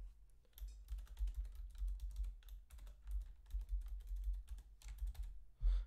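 Someone typing a password on a computer keyboard while signing up for a Zapier account, with rapid, irregular keystrokes clicking close by for several seconds. A few brief pauses break the run, and nobody talks.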